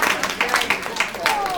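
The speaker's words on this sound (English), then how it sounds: "Okay, I heard some applause." Audience applause from a crowd at a storytelling talk, a dense burst of clapping sustained throughout the moment, fairly loud and close, with no speech over it.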